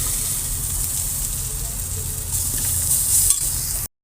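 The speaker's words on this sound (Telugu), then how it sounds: "కొంచెం కరివేపాకు వేసుకొని ఫ్రై చేసుకుందాం" Curry leaves dropped into a pan of frying onions give a steady hissing sizzle, swelling briefly before the sound cuts out abruptly near the end.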